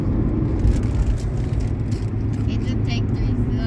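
A car driving on a road near Grand Falls, New Brunswick, heard from inside as a steady low engine and road rumble with faint rattles, continuous and fairly loud throughout.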